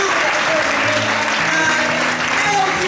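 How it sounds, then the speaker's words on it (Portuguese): A church congregation applauds, giving a dense, steady wash of clapping that stays loud and even from start to finish while a voice speaks over it. "Você pode aplaudir o Senhor?"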